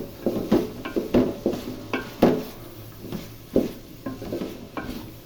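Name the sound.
beef and long beans cooking in a pan on medium heat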